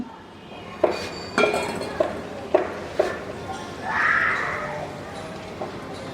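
A spoon scrapes the last oil from a bowl into a pan of eggs for Afghani egg curry, making a series of light clinks and scrapes at irregular intervals, then a soft sizzle-like hiss.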